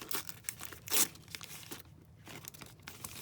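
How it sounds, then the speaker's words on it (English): Plastic film is peeled and ripped off a desk surface, with close crinkling and tearing bursts that come in irregular pulls, one sharper rip standing out, and no voices. "Now, I don't think I want that plastic on there, so I'm gonna rip that off."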